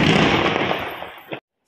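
Firecrackers burst during Diwali celebrations in a dense, crackling barrage that fades over about a second, ending with one final sharp pop before sudden silence.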